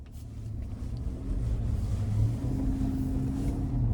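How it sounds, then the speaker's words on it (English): Engine of a 2025 GMC Yukon Denali on a road test drive, heard from inside the cabin as a low, steady rumble that builds slightly, moderately quiet, with no talking. "The sound from the engine is identical."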